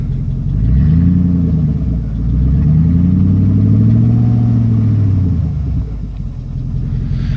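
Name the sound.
2001 Jeep Grand Cherokee 4.7 engine idling after cold start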